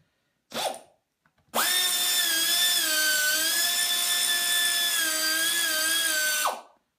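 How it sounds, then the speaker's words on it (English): A power tool, likely an impact driver, whines loudly for about five seconds as it backs out a bolt on the oil pump pickup of an LS1 engine, after a brief earlier burst. "before we get to the contents in the oil pan, we're going to remove the pickup."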